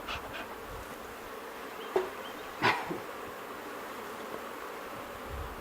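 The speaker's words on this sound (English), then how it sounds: "I'm trying to put smoke above the bees, not down in the hive." Honeybees buzz steadily around hives as a beekeeper works smoke over them, a continuous close hum with a few brief louder knocks and rustles, no talking.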